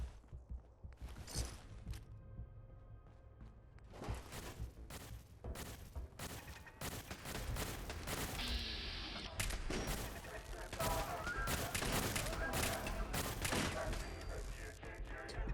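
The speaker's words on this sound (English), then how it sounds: "Random turrets shooting us." Automated turrets fire in Fallout 4 in bursts of rapid gunfire, with repeated volleys and other game sounds mixing in, steady and fairly loud throughout.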